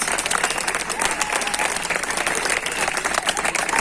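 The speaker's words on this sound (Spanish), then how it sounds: "responent als aplaudiments dels veïns" Neighbours applaud hospital staff outside Sant Joan de Déu hospital in Martorell, a dense, steady wash of many hands clapping from nearby balconies and street, with scattered cheers running through the whole stretch.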